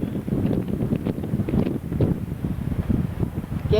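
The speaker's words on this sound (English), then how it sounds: "Windy up here." Strong wind buffets the microphone in steady gusts, a low rumbling roar that swells and eases throughout with no other sounds standing out.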